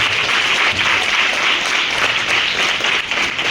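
Schoolchildren and guests at Vinoba Ashramshala give a donor team a loud, sustained round of applause, dense and steady clapping filling the room with no talking over it.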